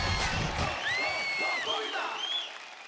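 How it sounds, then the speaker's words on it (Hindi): Audience applause and cheering on a televised Indian kids' drama talent show, a broad crowd roar with clapping and whistle-like whoops rising over it, loud and sustained, fading slightly toward the end. "जोरदार तालियां हो जाए गर्वित के लिए भी।"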